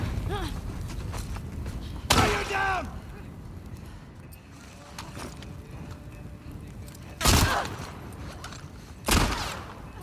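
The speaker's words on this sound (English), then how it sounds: "Stop shooting me." Scattered gunfire in The Last of Us Part 2: three loud, close shots spaced several seconds apart, each sharp and booming, with a player's voice talking over the quieter stretches between them.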